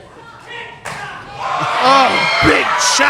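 Wrestling arena crowd roaring and cheering, swelling louder through the stretch with a sharp slap or thud near the end, under energetic voices.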